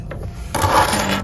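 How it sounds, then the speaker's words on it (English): A bunch of keys jingles and clinks as they are handled, a short metallic rattle close by in a quiet indoor room. "I got my keys."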